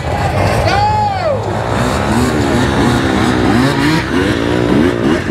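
Motorcycle engine revving in a video game, pitch sweeping up and down through gear changes, loud and continuous under game audio with people talking over it.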